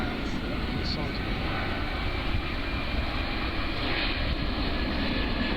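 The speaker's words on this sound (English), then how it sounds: "the A380 positions to slowly fly past" An Airbus A380 airliner flies slowly past at the Farnborough airshow in 2014, its engines a steady, fairly quiet broadband roar that holds even and continuous throughout, with a faint background murmur of people.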